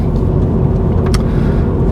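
A Mini John Cooper Works car cruising along the B723 country road, its engine and tyre roar filling the sound as a steady, loud, continuous drone with a brief rise in pitch partway through.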